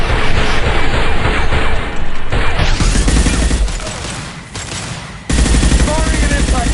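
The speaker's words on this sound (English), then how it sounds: "Firing an impact shot" Impact shot gunfire from the Mass Effect 2 video game, a loud, dense, sustained barrage of shots and blasts that briefly thins out, then erupts again at full force, with voices mixed in.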